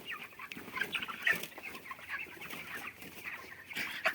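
A flock of 30-day-old chickens clucks and chirps in a village poultry farm. The calls overlap in a continuous, fairly soft chorus of short peeps, with nobody talking.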